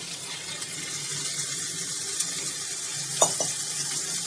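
Potatoes sizzle in a pan as green long beans are added and stirred in, a steady close frying hiss broken near the end by a couple of brief knocks from the stirring.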